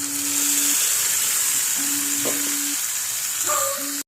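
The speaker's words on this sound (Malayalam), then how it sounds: "ആ കടുക് വറുക്കണം, അത്രയും നേരം കിടന്നാൽ മതി" Mustard seeds fry in hot oil for a Kerala buttermilk curry, a steady, close sizzling hiss with faint popping, accompanied by intermittent steady electronic tones in the background.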